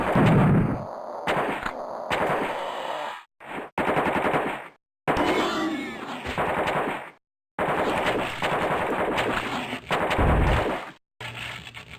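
Gunfire in the game AOPID Total Carnage, loud bursts of rapid machine-gun shots broken by short pauses, some heavy booming hits mixed in.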